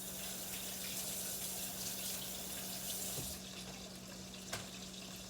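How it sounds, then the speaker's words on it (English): An onion rinsed under running kitchen tap water, a steady close splashing stream with a low hum beneath and a couple of brief knocks near the end. "Rinse my onion off a little bit here."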